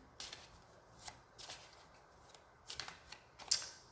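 Tarot cards shuffled and dealt out, giving a few quiet, brief riffling and slapping bursts spaced across a hushed, close-up moment with no talking.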